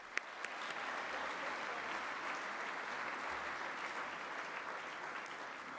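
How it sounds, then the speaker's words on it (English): Applause at the 2019 Sports Business Awards for the nominees, a steady, distant-sounding roomful of clapping with a few sharp individual claps standing out near the start. "Everyone in this room, whether they take home that hardware or not, deserves a very huge round of applause."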